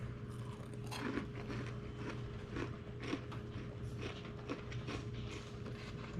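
Close-up crunchy chewing of a fried oyster, with repeated crisp bites and crackles over a low steady hum.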